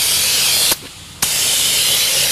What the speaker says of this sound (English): This new sprayer from Fluid Film sprays a much, much finer mist